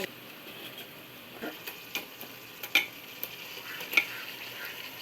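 Chicken being stirred into biryani gravy in a pot: faint, low sizzling with intermittent scraping and sharp utensil taps against the metal, close but quiet, with no talk.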